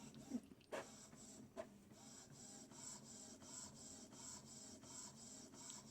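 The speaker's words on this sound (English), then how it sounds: "Are you jamming to the sound of the printer?" An Epson ET-2720 inkjet printer runs steadily with a repeating mechanical whir and rhythmic pulses, preceded by a few sharp clicks, fairly quiet and alone.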